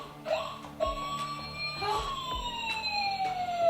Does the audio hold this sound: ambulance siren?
yes